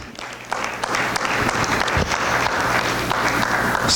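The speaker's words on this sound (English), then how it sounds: "Let's give God a hand clap of praise." A church congregation claps enthusiastically, a dense sustained burst of applause building quickly and continuing loudly throughout.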